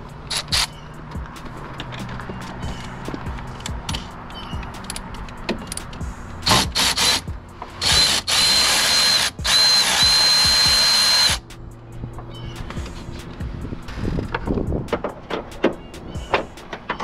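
A power tool works on the top bolt of a car, a 13 or 15 mm, in rapid, loud, close bursts, with one long sustained run followed by quieter clanking and tool handling.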